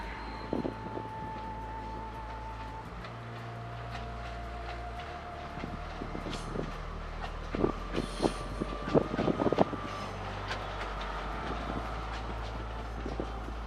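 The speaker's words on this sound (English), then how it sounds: "The trains slowly make their way through the winding tracks that end up in Talawakelle." Passenger train rolling slowly along winding mountain tracks toward Talawakelle in Sri Lanka's tea country, with a steady low rumble and clattering wheels over the rails under wind noise.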